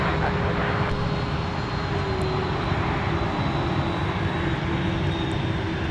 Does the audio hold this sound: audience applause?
no